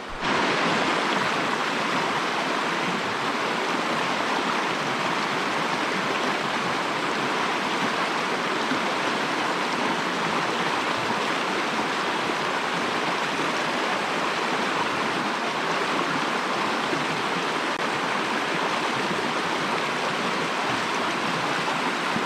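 A brook in an Adirondack forest near Little Santanoni: a steady, full rush of flowing water, close and unbroken for over twenty seconds, with no voices.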